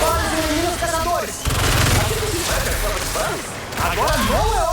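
Bursts of enemy gunfire in the Marvel's Spider-Man 2 video game, dense and loud, overlapping with voices talking throughout.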